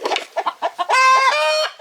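Several chickens cluck in a series of short, near calls, followed by a loud drawn-out squawk that sounds like a rooster crowing, all close and with no voices.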